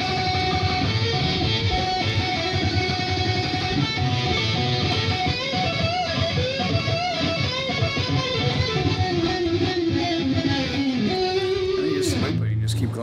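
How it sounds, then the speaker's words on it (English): An electric guitar solo is played isolated: dense, distorted lead lines run continuously and loudly, with fast bent notes over a steady high-gain wash. "That's what the solo sounds like, soloed out."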